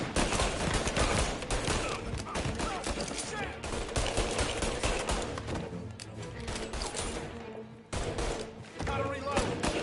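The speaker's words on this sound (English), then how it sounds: "I can walk around in fedora with a Tommy gun." Tommy gun bursts ring out in the Mafia video game on PS5, dense automatic fire over a busy, loud game soundscape with brief pauses, one near the eight-second mark.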